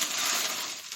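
Sharp rustling crinkle of packing paper crumpled by hand while a parcel of retro video games is unboxed, close and continuous for a brief moment, with no talk.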